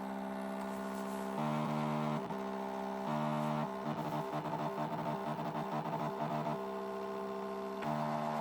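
Inkless thermal printer printing a document, a buzzing electronic whine that steps between pitches in stuttering segments as the paper feeds line by line, close and steady without talk.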